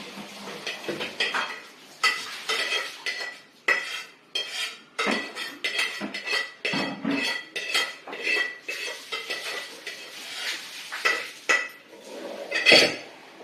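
Cooked onions and vegetables for a vegetable tiffin sambar are pressed through a strainer over a pot, giving a steady run of close metal scrapes, clinks and taps of utensil on strainer and vessel, with no talk.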